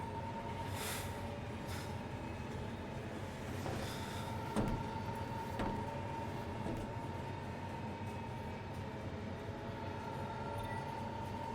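Final Fantasy XV train ride toward a station: a steady low rumble of rolling rail cars with faint clanks and an occasional brief hiss, fairly quiet, with no talk.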